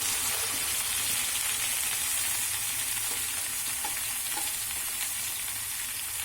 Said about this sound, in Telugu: ఇది ఆయిల్లో మనం కొంచెం కలర్ మారే వరకు ఫ్రై చేసుకుందాం.